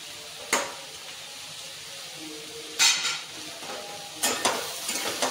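Cabbage sautéed with salt, turmeric and chili in a pan hisses at a low steady level, punctuated by three distinct metal spatula scrapes against the pan, the last trailing into several smaller knocks.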